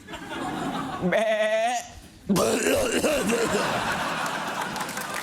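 A goat gives one wavering, quavering bleat lasting under a second, followed after a brief pause by an audience snickering and laughing, with voices in the mix.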